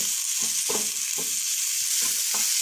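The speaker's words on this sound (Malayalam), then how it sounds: "നന്നായി വഴറ്റിയെടുക്കണം ഇത്" Brinjal pieces being stirred and sautéed in a frying pan, a steady loud sizzle with a rhythmic scraping of the spoon against the pan every half second or so, no voices.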